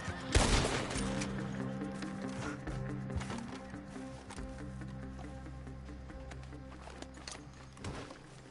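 Gunshots in Red Dead Redemption 2, starting with a sharp, loud volley, then a few scattered shots over hoofbeats and layered ambient game sound that fades and stays low.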